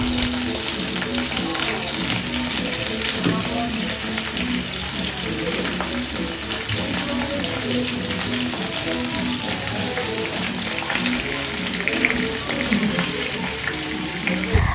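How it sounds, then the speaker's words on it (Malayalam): Chicken pieces frying in a pan, with a steady, crackling sizzle of hot oil that runs continuously at moderate loudness, with faint background noise underneath. "നമുക്ക് ഈ ചിക്കൻ ഒന്ന് ഫ്രൈ ചെയ്യാം"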